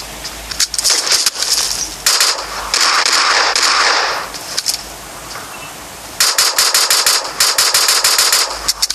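Pistol gunfire in a video game, rendered as loud, rapid clusters of sharp shots in three dense bursts separated by brief pauses, with no talking.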